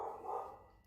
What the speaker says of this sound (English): if you hear some barking there